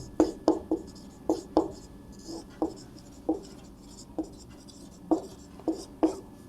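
Pen or pencil writing on paper while a maths exercise on finite sets is worked out, giving a series of short, distinct scratching strokes at an irregular rhythm, close and fairly quiet, with no talk.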